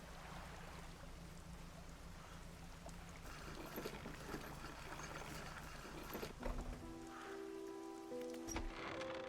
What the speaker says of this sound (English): It's getting kind of rainy.